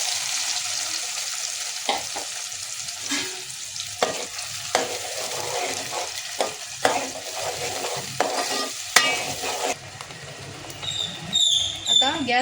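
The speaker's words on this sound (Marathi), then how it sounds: "तेल गरम झालं आहे, तर हे मी आता याच्यामध्ये घालून घेते जे आपण वाटण बनवलंय ते" Ground masala paste sizzling and frying in hot oil for a Bombay duck (bombil) curry, a steady close crackle with stirring scrapes and clinks throughout, easing off near the end.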